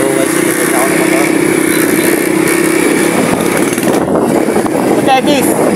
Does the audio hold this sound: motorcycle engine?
yes